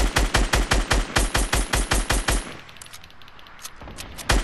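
Rapid automatic gunfire in a duos battle video game, a dozen sharp evenly spaced loud shots in quick rhythm, followed by a quieter pause and a few scattered single shots.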